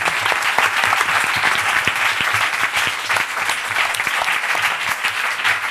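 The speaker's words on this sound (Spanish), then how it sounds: "vamos a dar un aplauso a los compañeros." Sustained applause from the audience at the close of a session at FCForum 2011, a conference gathering, dense and steady throughout without any talk over it.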